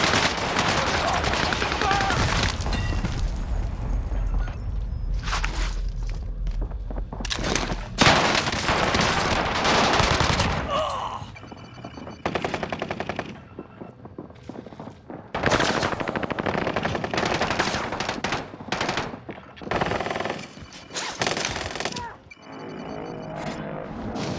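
Gunfire in Warzone Resurgence, a video game, with loud close bursts of automatic fire and single shots, game effects and brief quiet gaps between volleys.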